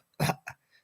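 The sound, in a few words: man coughing during a live music recording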